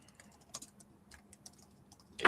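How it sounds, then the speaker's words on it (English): Sparse, quiet keystrokes come from typing on a computer keyboard, each tap short and separate. A louder rustle or knock ends the passage, and no one speaks. "If you guys get to see my typing skills."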